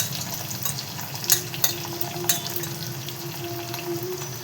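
Flattened rice poha is being stirred with jaggery in a pan, giving a soft, steady sizzle with a few sharp scraping clicks from the spoon and a faint tonal hum underneath.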